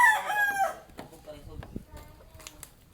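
A rooster's crow rings out near and loud at a family home with many chickens, then fades into scattered clucks and yard noise as people talk quietly in the background.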